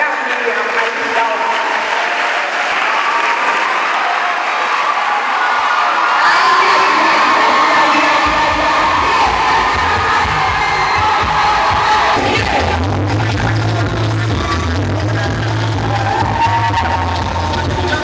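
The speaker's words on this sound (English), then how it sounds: "with a resounding round of applause, let's welcome Madam Miriam Alida" A large audience at a school girls' summit bursts into sustained applause, cheering and high-pitched whoops, loud and continuous throughout, with a voice speaking over the crowd for a while.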